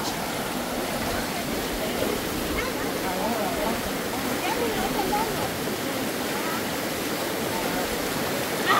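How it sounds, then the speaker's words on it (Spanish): A river being crossed on foot on the way to the El Maguey community rushes and churns in a steady, loud wash of flowing water close by, unbroken for the whole stretch. "La misión es cruzar el río."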